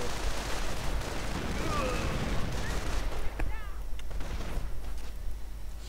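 Fallschirmjäger paratroopers fire rifles and machine guns in a World War II strategy game battle, a dense, steady crackle of distant gunfire with scattered sharper shots under faint whistles.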